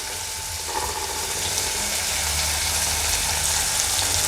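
Chopped tomato sautéing with salt in a hot pan, a loud, steady, close hiss and sizzle that continues evenly throughout without pause.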